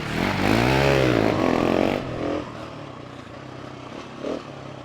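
Two supermoto bikes, a Ducati 698 Mono and a KTM 690 SMC R, racing: a loud, close engine revving with rising and falling pitch, then fading into a fainter rumble with a brief later burst.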